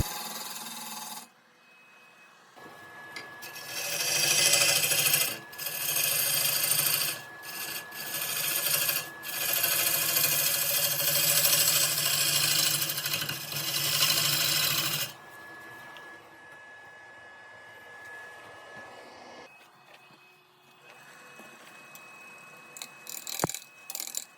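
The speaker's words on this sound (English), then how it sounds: "I'm going to now sort of come at it from the other side and start shaping the top of the hollow form" A woodturning lathe roughs out a large hollow form, a gouge shaping the top with a loud, continuous scraping rasp broken by short pauses, then quieter, intermittent cutting near the end.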